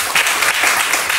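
A French television talk show studio audience applauds in a dense, steady burst of clapping, close and loud for just over a second.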